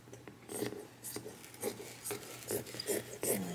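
Fabric being cut for project bags, heard as a series of soft, close, rhythmic scissor snips and rasps at roughly half-second intervals, quiet and without talk.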